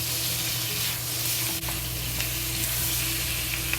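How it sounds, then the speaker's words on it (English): Onion frying in a pan with sausage, a close, even, continuous sizzle with a faint hum beneath and a couple of soft clicks, no voices. "Just slowly fry until the onion is fully cooked."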